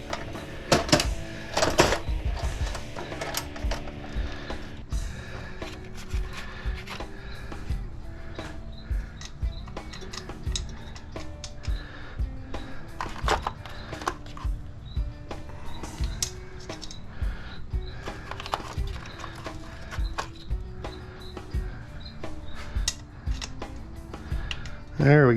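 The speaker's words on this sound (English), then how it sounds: "I think we may have to take these bolts out of here." Metal clanks, ticks and tool clatter from bolts being taken out of a large InSinkErator garbage disposal being scrapped, irregular close-up rattles and taps throughout, with people talking over the work.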